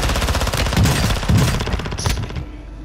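Rapid automatic gunfire in the video game Call of Duty: Modern Warfare II Resurgence, loud dense bursts with overlapping shots throughout, easing off near the end; no speech.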